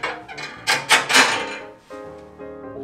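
The air intake control on a Jøtul F 373 Advance wood stove is slid and adjusted, producing a few close metallic scrapes and clunks in quick succession before it settles into quiet.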